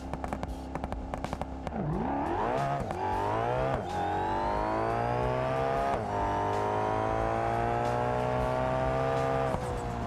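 A stick shift drag car in BeamNG, set up with two-step and nitrous, sits on the limiter with rapid popping bursts. It then launches with a loud, close engine howl that rises through several gear shifts.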